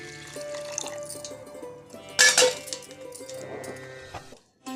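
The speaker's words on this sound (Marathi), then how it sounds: "आता यात पाणी ओतायचं" Water is poured into a pot of washed rice before cooking, a trickling, splashing pour with a few clinks against the vessel and a brief louder gush in the middle.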